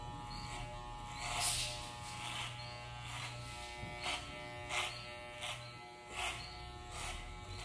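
Electric hair clippers buzz steadily through a fade haircut, with rhythmic surges as the blades pass through hair, fairly quiet and close, with no voices.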